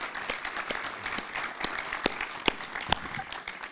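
Audience applause fills a hall at the Halifax Port Days 2012 chairman's breakfast: steady, dense clapping with a few sharper individual claps standing out near the end, with no talk over it.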